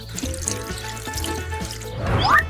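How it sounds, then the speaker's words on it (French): Water trickles and pours onto a candy tree, a soft continuous splashing that swells louder toward the end. "Il faut pas oublier de l'arroser."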